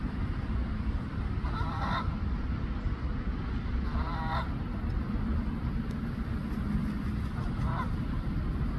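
A second goose honks in the distance on water, three faint separate calls spaced a couple of seconds apart over a constant low background rumble.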